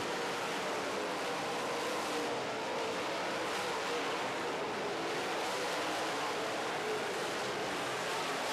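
Super stock race cars circle a racetrack during a feature race, blending into a steady, dense roar that holds at an even level with no pauses.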